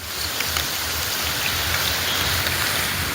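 Steady heavy rain in Kasaragod, Kerala, pours down with a dense, even hiss and scattered drops, continuous throughout with no voices.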